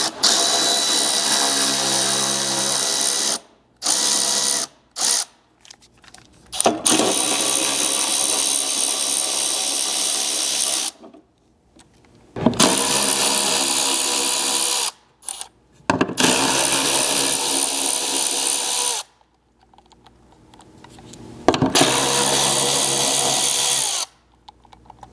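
A power drill unscrews bumper fasteners on a second-generation Toyota Sequoia, whirring in repeated short bursts with brief pauses between them, close and fairly loud.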